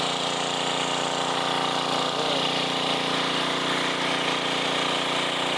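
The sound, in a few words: 90s Sears Craftsman generator engine running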